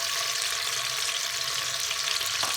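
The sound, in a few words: chopped onions frying in oil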